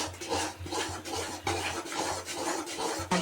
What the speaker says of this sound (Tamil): கை விடாமல் கிண்டிகிட்டே இருக்கணும்